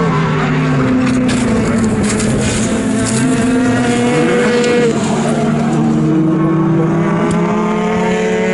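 Formula 3 race car engine at Donington Park, a loud, high-revving whine that climbs and shifts through gears, with several engine tones overlapping throughout as cars run close together.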